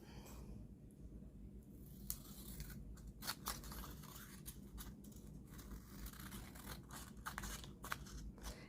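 Scissors trimming the edges of a paper journal tag: a series of quiet, close snips and crisp crunches spaced irregularly over a soft steady background hum, with no talking.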